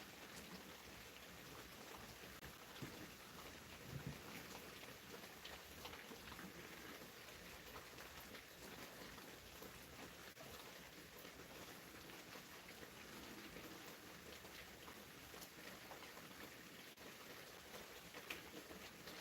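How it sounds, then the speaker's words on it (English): Heavy rain pours steadily outside, a dense, even hiss of drops that continues without pause, faint and distant, with no talking. "besides this deluge going on outside that they're calling light rain"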